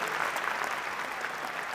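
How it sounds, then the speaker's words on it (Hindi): Steady, dense applause from an audience welcoming a poet onstage at a hasya vyangya comedy-poetry event, continuous and even throughout. "थोड़ी और जोरदार तालियों के साथ बुलाइए"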